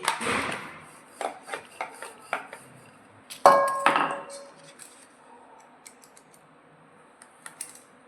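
A knife cuts through stiff jaggery and wheat-flour dough for mathi in a home kitchen, giving a series of short taps and clicks against a board at close range, with one sharper clatter midway.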